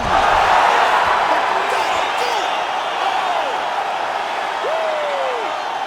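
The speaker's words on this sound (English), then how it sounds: "Crowd loving it." In the UFC 5 video game, an arena crowd roars loudly after a knockout, a broad sustained wash of cheering with a few rising whoops and whistles, fading slightly over several seconds.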